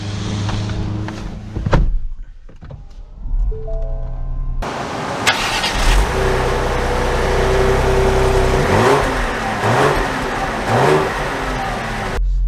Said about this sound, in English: let's set off here in the Explorer